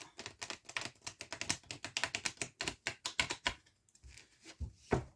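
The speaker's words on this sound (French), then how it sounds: "je vais aller bien brasser les cartes" Tarot de Marseille cards are shuffled by hand, a close, fast run of crisp papery taps and riffles with a short pause near the end before a final flurry.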